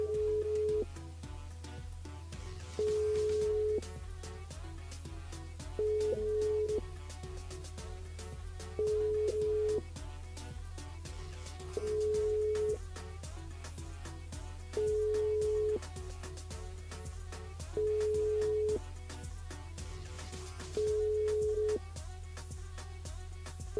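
Telephone tone repeating as regular short beeps about every three seconds over a steady low hum, a call left unanswered during a live radio broadcast.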